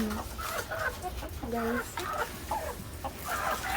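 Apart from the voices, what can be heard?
chickens clucking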